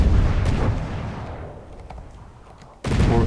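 Three-barrel cannon shells fire and detonate in the From the Depths video game, with a loud booming burst, a decaying rumble and a few faint pops, then another sharp loud blast near the end.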